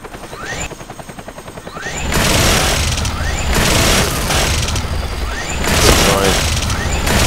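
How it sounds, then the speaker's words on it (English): Grenade blasts and gunfire in an online shooter game, a first quiet stretch of rapid mechanical ticking giving way to sustained loud booming, rumbling and shots from about two seconds on, with voices talking over the din. "I see nades coming dude, from uh, rooftop's entrance"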